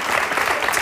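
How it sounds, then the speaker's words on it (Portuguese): A brief burst of audience applause at a Grande Prémio do Fado singing competition: dense clapping from a crowd, loud and close, lasting under a second. "Um grande aplauso."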